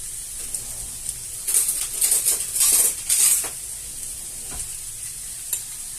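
Whole-grain mustard stirred by the spoonful into browned turkey and vegetables in a Cookeo multicooker, a cluster of soft scraping and sticky stirring sounds over a steady faint sizzle, with no talking.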